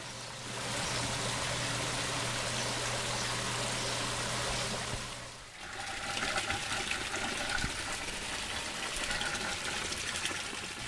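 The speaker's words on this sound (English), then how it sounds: "I want to see the waterfall." Water pours from the low drain of an aquaponics tank, a steady loud rushing splash with a low hum beneath that briefly dips and then resumes as a fuller gush, with no talk over it.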